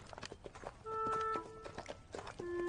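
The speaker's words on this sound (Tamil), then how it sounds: "நல்ல கருப்பு குதிரை." Hooves of a black horse clip-clop in a steady walking rhythm, with sustained tonal sounds layered over the hoofbeats.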